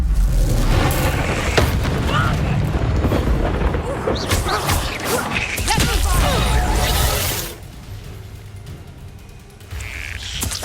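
A Confringo blasting spell goes off in a Hogwarts Legacy shop quest battle, with loud booming explosions and shattering debris in a dense, sustained roar that drops off near the end, mixed with game voices.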